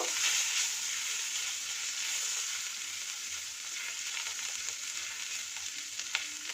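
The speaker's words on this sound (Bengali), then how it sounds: "এবার আমি এর মধ্যে রসুন কুচো, আদা কুচি দিয়ে একটু নাড়িয়ে নেব।" Chopped garlic and ginger frying and being stirred in a pan for hot and sour vegetable soup: a constant, even sizzle with faint stirring scrapes and an occasional tap, and no speech.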